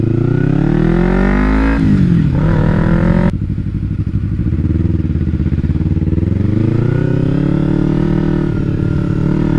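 A 2012 Kawasaki Ninja 250R, a 250cc motorcycle, revs hard up close, its engine pitch rising and then dropping sharply before settling into a rough, fluctuating idle and light throttle blips.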